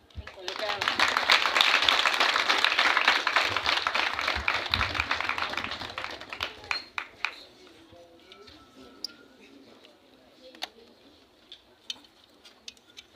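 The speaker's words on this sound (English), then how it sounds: "I want a bigger round of applause for St. Teresa's." Audience applause at the inauguration of a mental disability association's office in Abuko, Gambia: loud, dense clapping builds and holds for several seconds, then thins to scattered claps and faint background sounds.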